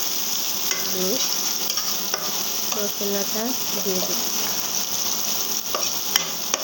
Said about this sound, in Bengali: খুবই ভালো করে চিজটা ভেজে নেব